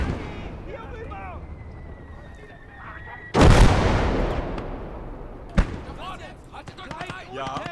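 Heavy mortar fire in a war video game: one loud, deep blast that rumbles away over a couple of seconds, then a sharper second impact, with a voice talking over the battle noise.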